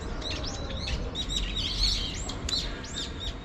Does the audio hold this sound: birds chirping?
yes